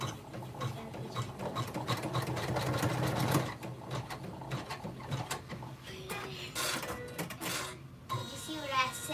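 A sewing or embroidery machine stitches registration marks on a bag, its rapid mechanical needle chatter running steadily nearby while people talk over it.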